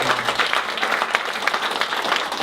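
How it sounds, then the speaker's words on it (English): An audience at a school concert breaks into steady applause, many hands clapping together in a continuous, fairly close wash with no voices over it. "so round of applause for them as well."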